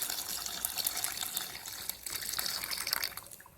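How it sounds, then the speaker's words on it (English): Warm whole milk pours in a steady, gushing liquid stream into a lasagna sauce, close up and fairly soft. "We're gonna add the whole milk"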